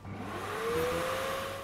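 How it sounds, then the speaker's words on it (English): A steady whirring suction tone rises in pitch as water is vacuumed up in the space survival video game Stationeers, a continuous mechanical drone heard alone without talk. "So there you can vacuum up the water, and you can shoot it right into a drain."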